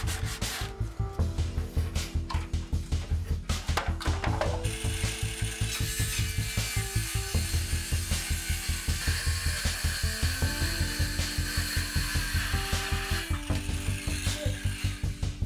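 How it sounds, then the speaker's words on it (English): Furniture being lightly scuff-sanded with a 150-grit sanding pad, a continuous close rasping drone with a fast steady pulse throughout, loud and alone. "So I have a 150 sanding pad. We're just gonna give it a light sanding."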